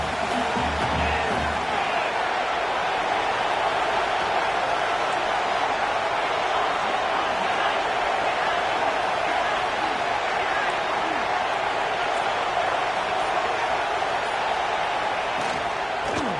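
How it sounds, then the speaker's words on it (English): A stadium crowd roars steadily and loudly in a football video game during the final minute of a semifinal against Michigan, an unbroken wash of cheering with no pauses. "Tremendous crowd atmosphere now in the final minute of play."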